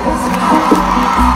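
Live bachata concert crowd cheering and applauding, a dense, steady roar of many voices with whoops rising through it, loud and close throughout.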